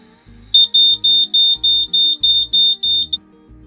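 Loud, shrill electronic alarm beeps from an RV propane detector set off by butane gas, repeating rapidly, about nine short pulses in a steady rhythm, close by with nothing else heard.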